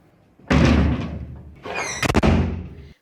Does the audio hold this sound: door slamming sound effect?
yes